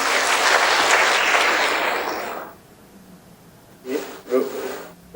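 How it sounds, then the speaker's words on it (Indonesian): A crowd applauds loudly for about two seconds, then the clapping fades and a few faint voices follow. "Diberikan tepuk tangannya semuanya."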